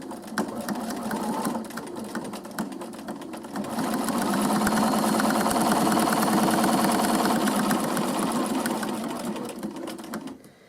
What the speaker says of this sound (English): now I'm just going to stitch in the ditch between the piping and the binding